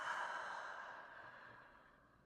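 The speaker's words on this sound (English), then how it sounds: "and breathe out." A slow, steady exhale during a somatic movement exercise, breathy and close, fading gradually over a couple of seconds with no talking.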